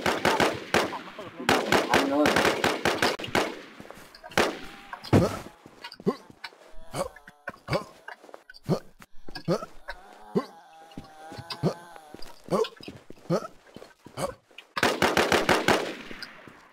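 Bursts of automatic gunfire from the survival shooter Infestation, dense rapid volleys at the start and end with scattered single shots in between, mixed with game ambience.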